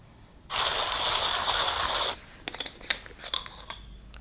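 A Timemore hand coffee grinder set to 15 clicks grinds beans in a loud, steady rasping burst of about a second and a half, followed by a few scattered clicks and knocks as the grinding stops.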